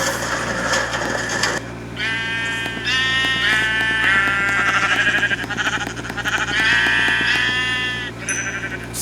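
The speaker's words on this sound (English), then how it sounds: "Sorry guys, I have to kill these sheep." Sheep bleat repeatedly in a video game, several drawn-out, wavering cries following one another in near succession over a steady low background hum.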